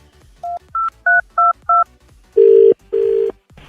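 A landline telephone is dialed up close: five short, crisp keypad tones beep in quick succession, then two longer, louder steady tones follow, with no voices.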